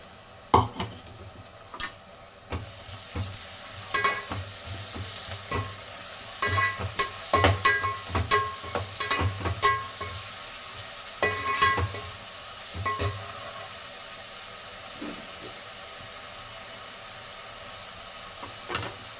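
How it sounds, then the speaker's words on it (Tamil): Ginger garlic paste frying and being stirred in a pot for a home-cooked mutton biryani, with steady sizzling broken by repeated sharp scrapes and clinks of a spoon against the metal. "இப்போ இஞ்சி பூண்டு பேஸ்ட்டு அதில் போட்டுடலாம்"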